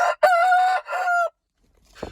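A Sasso rooster crows once, loud and close, a short strained call in a few segments, followed by silence and a faint noise.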